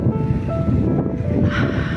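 Strong wind in Estancia, Iloilo buffets the microphone with a heavy low roar and rumbling gusts, close and loud, with a faint hiss of surf or air behind it.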